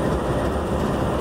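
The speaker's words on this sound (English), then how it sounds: "in front of a long freight train being hauled by 5 engines" Long Norfolk Southern freight train hauled by five locomotives (three ED units and two high hoods) passing near the Amtrak station in Spartanburg, South Carolina: a loud, steady, close rumble and roar with no pauses.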